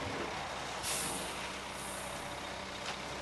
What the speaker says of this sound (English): the second truck moved right in